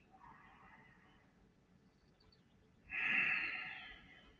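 Two breaths during a guided breathing exercise, a soft airy exhale early on, then a louder, closer breath lasting about a second that fades away.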